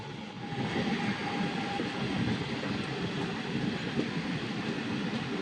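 A crowded local train runs alongside and overtakes near Kalyan on the Mumbai line, a steady, loud broadband rumble of wheels and carriages rolling continuously with no voices.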